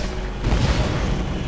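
Borderlands video game firefight with a continuous heavy rumble of gunfire and explosions, peaking in a loud booming burst partway through and staying dense and close throughout.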